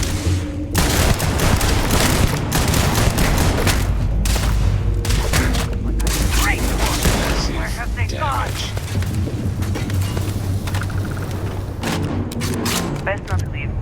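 Turrets open fire in Starfield with dense, sustained bursts of gunfire and booming impacts that run continuously at high intensity, with a voice talking over the barrage.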